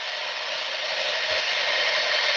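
Steady rushing hiss of air pumped into a pressurized spacesuit, loud and continuous with no breaks and no talk over it.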